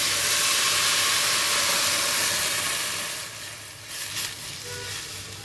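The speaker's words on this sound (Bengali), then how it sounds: "এবার আমি জল দিয়ে দিচ্ছি।" Hot water poured into a pot of fried basmati rice, a loud steady sizzle and hiss of steam that holds for about three seconds, then eases into quieter bubbling with a few brief flares.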